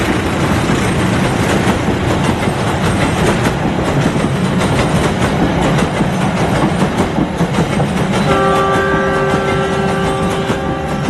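A Turangga executive passenger train with stainless steel carriages rumbles past close by with a loud, steady roar of wheels and cars, and a sustained tonal horn or squeal rises near the end.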